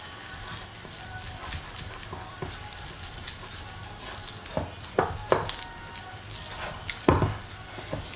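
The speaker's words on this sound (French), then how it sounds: "de farine de seigle T130, 40 g d'eau non chlorée et on mélange." Rye flour T130 and unchlorinated water being stirred together for a sourdough starter, soft scraping and knocking of a utensil against a bowl, with a few louder clacks near the end.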